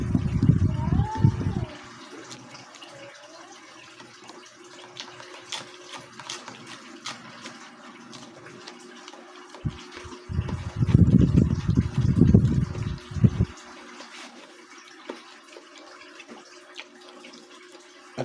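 Hot water is poured from one container into another, with two bursts of close, low splashing and gurgling separated by a quieter stretch.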